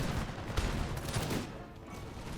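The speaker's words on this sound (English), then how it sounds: "Enemy cannon fire." Enemy cannon fire booms through a British-versus-American battle in an American Revolution strategy game, a dense fusillade of overlapping blasts and crackling shots that rolls on steadily and fades slightly toward the end.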